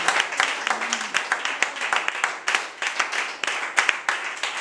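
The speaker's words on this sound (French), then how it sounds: "So clap for Jesus" Church congregation clapping for Jesus, close and lively hand claps in an uneven rhythm, with some voices mixed in.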